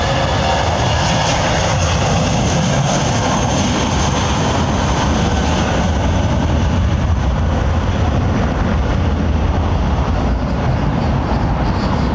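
A loud, steady jet roar from an Alaska Airlines airliner at London Heathrow Airport fills the whole stretch without easing, broad and close, with no talking.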